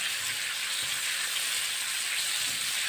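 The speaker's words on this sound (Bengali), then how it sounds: "শুধু বাটার দিয়ে আমি একটু নেড়ে নিচ্ছি।" Capsicum stir-fried in butter in a pan sizzles steadily and evenly for the whole stretch, a dense close frying hiss with no talk over it.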